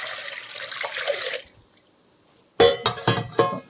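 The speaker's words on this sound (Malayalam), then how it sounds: "ഇത് വേവാൻ ആവശ്യമായ വെള്ളം കൂടി നമുക്ക് ചേർത്ത് കൊടുക്കാം" Water is poured into a pressure cooker holding green gram: a steady splashing pour for about a second and a half, a pause, then several louder, choppier bursts of pouring and splashing close by.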